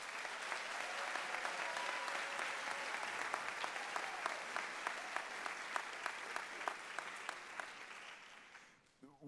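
A large audience at a 2018 graduation ceremony applauds the graduating class of 2018 in a sustained, dense wash of clapping. Steady, evenly spaced louder claps stand out through it before the applause fades at the end.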